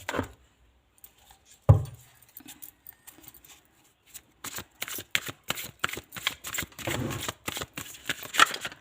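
Tarot cards being shuffled by hand, starting with a few sparse taps and a sharp knock, then building into rapid, repeated riffling bursts close to the listener.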